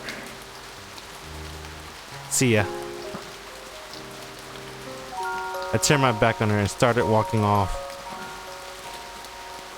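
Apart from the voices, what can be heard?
rain falling, from visual novel game One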